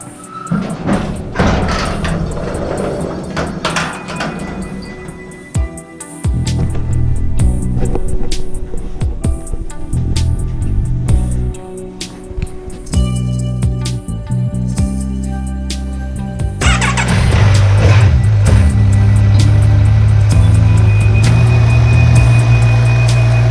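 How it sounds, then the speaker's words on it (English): A Kawasaki Z1000SX Ninja 1000 motorcycle with gel seat pads is ridden, giving a loud, continuous engine drone and rushing wind with occasional thumps and shifts in pitch throughout. "Let's get the bike out there and see what they're like."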